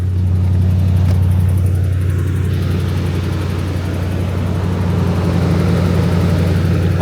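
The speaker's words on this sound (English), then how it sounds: "It sounds like it's idling just like it should." A cold Toyota GX470's 2UZ V8 idles evenly up close, a steady low engine hum with a whooshing cooling fan layered on top throughout.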